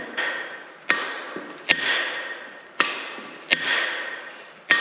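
Hammer blows ringing out on a metal anvil, five sharp loud strikes at irregular intervals about a second apart, each followed by a bright decaying metallic ring, close with no talking.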